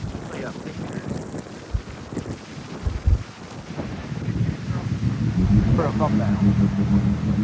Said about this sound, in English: Sounds like a boat. That's what you call through the hull exhaust.